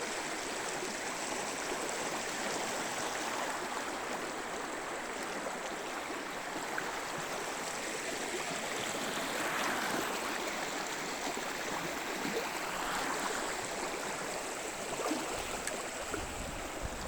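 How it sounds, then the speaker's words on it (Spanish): The Río Louro in flood rushes past at Orbenlle, a steady, full broadband roar of flowing river water that stays close and constant throughout with no voices. "Río Louro a su paso por Orbenlle."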